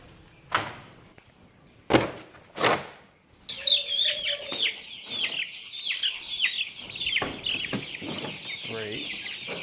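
Meat chickens clucking and squawking in a crate, a few sharp knocks and thumps first, then a busy, continuous chorus of close clucks and calls from several birds.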